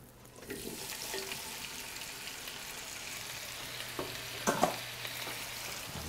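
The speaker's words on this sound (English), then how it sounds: "I'm going to get these into the pan fairly quickly because that temperature's coming up" Pesto prawns frying in a hot pan for a paleo stir-fry, a steady moderate sizzle with occasional stirring scrapes and a sharper clatter near the end, no voices.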